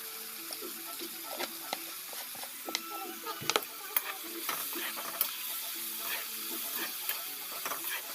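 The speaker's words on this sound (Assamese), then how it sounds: "আৰু ইয়াত ভালকৈ ভাজি লোৱা হ'ব।" Food frying in a pan with turmeric and salt, stirred steadily: a continuous sizzle with repeated scraping and clinking strokes, close and moderately loud, no talk.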